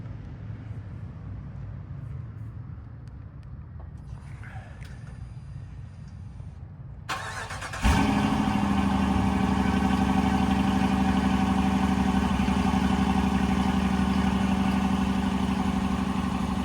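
A 2024 Dodge Durango R/T with its 5.7L HEMI V8 and factory exhaust cold-starts after a quiet stretch, catching abruptly and settling into a loud, steady, deep idle rumble up close.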